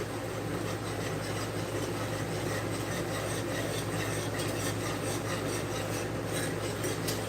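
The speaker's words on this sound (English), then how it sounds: "slowly add in the milk while we whisk" Sprouted hard red wheat flour paste being whisked with milk, giving a steady scraping, rubbing rasp of a whisk against the bowl that runs continuously and fairly close over a constant low background hum.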